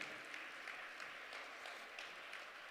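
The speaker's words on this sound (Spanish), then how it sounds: "Dale un fuerte aplauso al Señor Jesucristo." A church congregation applauds during a sermon, a faint, distant spread of clapping with occasional louder claps, steady throughout.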